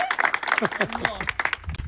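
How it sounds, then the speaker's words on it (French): Scattered applause and clapping from a small group, mixed in with overlapping chatter and speech during a French show announcing candidates. "Applaudissements."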